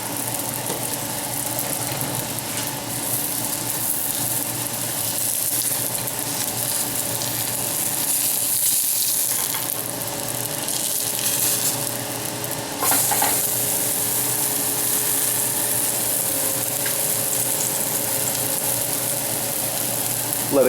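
An avocado bread bun sizzles in a frying pan, a steady hiss of oil with faint scraping and clicks of the cooking utensils.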